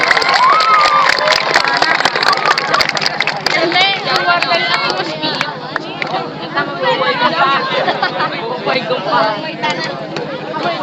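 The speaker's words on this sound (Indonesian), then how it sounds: "Tepuk tangan yang meriah." A crowd cheering, shouting and clapping after a rocket launch at Santolo beach, Pameungpeuk, Garut, a loud, steady babble of excited voices and children's shouts that goes on throughout.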